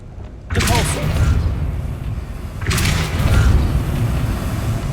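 Two Depulso spell casts in Hogwarts Legacy, each a sudden whooshing boom with a grinding, door-like push of heavy objects. The first comes early and the second a couple of seconds later, both close and loud.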